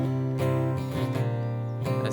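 Guitar plays chorus chords of a song, a short passage of ringing strummed chords with a couple of clear strokes, close and moderately loud, no talking.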